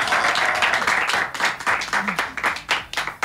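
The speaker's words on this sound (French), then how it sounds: "On l'applaudit très très fort." A studio audience at an Ivorian radio show claps in a brief, uneven burst of applause, loud and close, the individual claps distinct rather than a dense roar.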